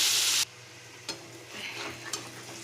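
Hot water poured into a pan of drumsticks frying in spice paste for a Bengali mustard drumstick curry, a loud hissing burst that cuts off, then soft bubbling and sizzling with a few sharp ticks.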